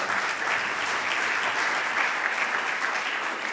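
Steady, sustained audience applause fills a large plenary hall at a winter meeting of city officials, a dense continuous clatter of many hands with no break and no talk over it.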